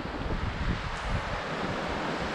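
Continuous surf wash with small waves breaking close by on Talsari beach, India, mixed with gusty wind buffeting the microphone.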